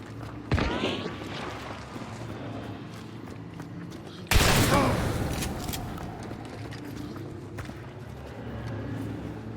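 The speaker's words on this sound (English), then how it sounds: "what I tried doing here is lighting them up with the Dragon Breath" A shotgun loaded with Dragon Breath rounds fires in the game Hunt: Showdown, two loud booming blasts a few seconds apart with a long roaring fiery tail after the second, over background game ambience and footsteps.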